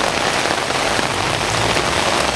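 Steady rain falls and patters across surfaces, a dense, even hiss that holds throughout at close range with no talk.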